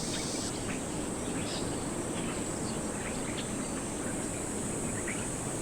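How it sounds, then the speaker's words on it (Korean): A male Hyalessa fuscata cicada sings its courtship song, a continuous bright buzzing drone over steady outdoor insect ambience, with no voices. "열심히 구애의 노래를 부르는 참매미 수컷."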